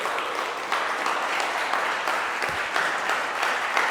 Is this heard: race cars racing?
no